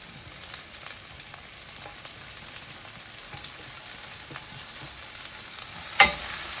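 Garlic and tomatoes go into a pan of frying onion, giving a steady crackling sizzle with scattered spatters, then a sudden louder burst of hissing near the end as the ingredients hit the hot oil.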